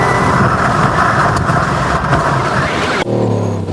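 An off-road race car at the Moreca Caledon 400 in South Africa roars loudly and steadily as it runs on a punctured tyre, then the engine tone abruptly shifts lower near the end.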